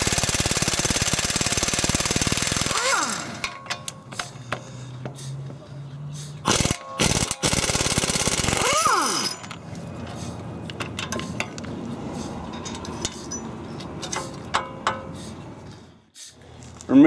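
A 21mm caliper bolt on a Jeep JK is worked loose, with ratcheting and mechanical clicks against a steady broadband hum, a few sharp metallic knocks, then quieter intermittent tool sounds.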